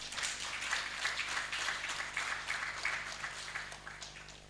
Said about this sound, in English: I would wish therefore to call upon all of us here to join me in applauding UNICEF for their immense contribution and goodwill.